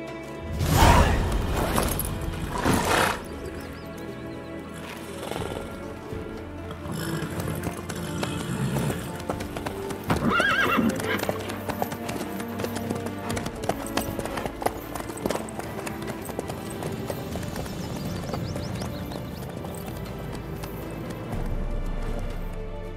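Horse hooves clip-clop in a steady rhythm on hard ground, close and prominent throughout, alongside rattling harness and creaking sounds, with a brief neigh-like call and a bit of speech under them.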